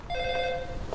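Telephone ringing indoors in a drama film scene, one short electronic ring with a clear, bright tone, heard alone and fairly loud.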